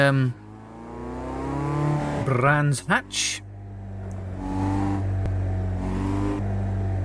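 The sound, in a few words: Caterham Academy car engine in Automobilista 2 video game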